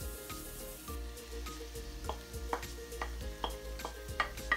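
Tofu dropped into softened, translucent onions frying in oil, giving a steady close sizzle with repeated stirring scrapes and soft clatters, no voices.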